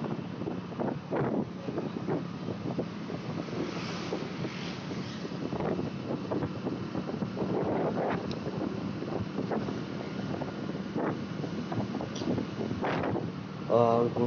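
Strong, steady wind buffeting a microphone while riding a motorcycle on a very cold day, a continuous roar with someone talking over it throughout.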